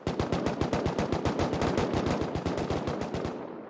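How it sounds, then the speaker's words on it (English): Sustained automatic gunfire in the survival video game Rust, a loud, fast, steady stream of shots for several seconds that tails off at the end, with no talk over it. "Is that someone shooting at you?"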